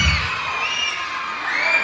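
A crowd at a dance event shouts and cheers together, loud and sustained for a moment, with excited voices blending into one bright roar.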